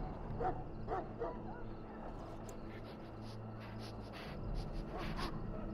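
Mabari war hound in the fantasy video game Dragon Age giving faint yips and barks amid quiet ambient game sound, with a voice speaking in places.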